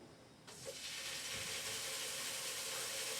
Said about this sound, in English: Let's get the pork chops in the pan.